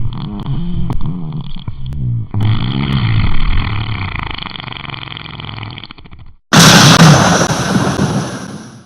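A sharp, loud explosive burst erupts after a stretch of droning, whistle-like tones, then a rumbling roar rolls on and slowly fades.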